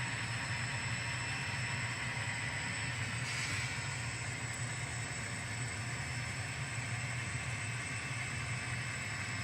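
A model-scale train rolls over a freshly maintained track switch, a steady low rumble of running gear with a faint scrape midway, quiet and continuous with no voices.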